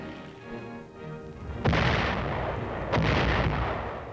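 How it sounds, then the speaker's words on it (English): Mortar fire lands in two heavy, booming blasts, the second coming just over a second after the first, each with a long rumbling tail over a low background hum. "Mortar fire is one of the infantryman's greatest enemies."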